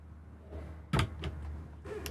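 A drawer sliding open inside a Winnebago EKKO camper van gives a short, sharp rattling thump near the middle, with a few lighter clicks after it against a quiet interior background.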